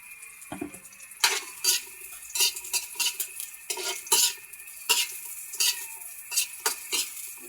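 Onions sautéed in a pan, a run of rhythmic scraping and clinking utensil strokes against the pan over a soft sizzle, close and fairly loud.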